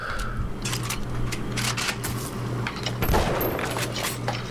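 Rapid gunfire from an enemy's gun in BioShock crackles in dense bursts over a steady low hum, loud and continuous throughout.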